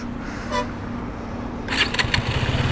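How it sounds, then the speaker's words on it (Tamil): KTM Duke 200 BS6 motorcycle idling with a steady low exhaust hum, then a few sharp throttle blips near the end, heard close and alone. "இந்த வண்டியோட எக்ஸாஸ்ட் சவுண்ட் எப்படி இருக்குன்னு நான் காட்டுறேன்"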